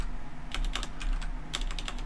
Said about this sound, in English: let's try not typing Wong